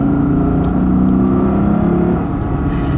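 A 2012 Lexus IS F engine revs hard under acceleration, a loud continuous mid-pitched roar that holds steady and climbs through the gears, close and sustained with no talking.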